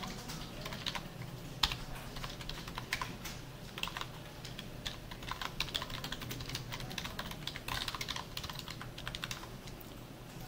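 Quiet computer keyboard typing of shortcuts in Visual Studio Code, with soft irregular key clicks and taps tapping away close by and alone, with no speech.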